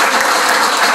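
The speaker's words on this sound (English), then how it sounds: "Now you can applaud" Wedding guests applaud in a dense, steady burst of clapping that fills the room at close range, with no voices standing out.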